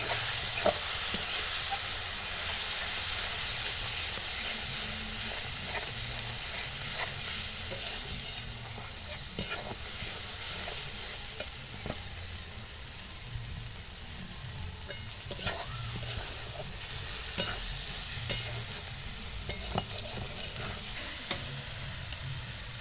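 Salt, turmeric and chili powder sautéing in oil for a cauliflower chicken curry, a soft continuous sizzle with repeated spoon scrapes and stirring knocks throughout, moderately quiet and without voices.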